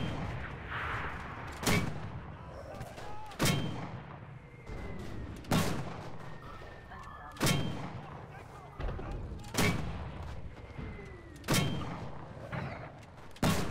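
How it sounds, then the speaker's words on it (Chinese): An anti-tank gun in the World War II shooter Enlisted fires again and again, heavy booming shots every couple of seconds with reverberant tails, about eight blasts in a row over a background of battle noise. "这反坦克炮的位置蛮好的，对啊，这个破炮能够一直轰"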